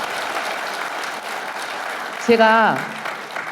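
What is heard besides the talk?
audience applause at policy forum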